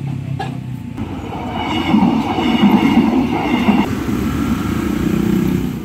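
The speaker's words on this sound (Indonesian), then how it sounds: "Kereta yang menuju ke arah Tangerang." A commuter train bound for Tangerang rolls loudly past a railroad crossing in Jakarta, with a close, continuous rumble and wheel clatter that swells and holds.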